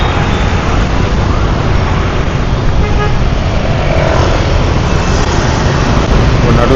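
Dense road traffic roars close by, with car horns tooting now and then over the constant hiss and rumble of engines.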